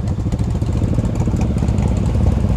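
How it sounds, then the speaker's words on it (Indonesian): A motorcycle engine revving hard on a night ride toward Puncak, Bogor, a loud, close, rapid throaty rumble pulsing in quick repeated bursts throughout. "Gua dapat geberan, guys."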